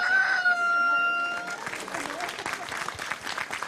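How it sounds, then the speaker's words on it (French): Berry black hen, a French chicken breed, with rooster-like crowing and clucking early on, then a busy stretch of claps and chatter mixed with the fowl sounds. "Voilà la poule noire du Berry."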